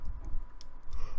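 During PC gaming, a computer keyboard and mouse give a few faint, quick clicks and taps in a brief, quiet burst.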